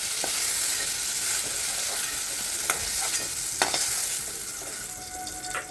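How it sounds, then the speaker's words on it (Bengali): Ridge gourd frying in oil in a pan while being stirred, a steady close sizzle with scattered scraping clicks from the stirring utensil throughout, no voices. "এদিকে ঝিঙেটা দেখুন কত সুন্দর করে ঝরঝরে করে ভাজা হয়েছে।"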